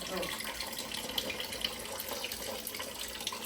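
A tap runs steadily into a sink, a continuous close splashing hiss at low level with a few small spatters, no talk over it.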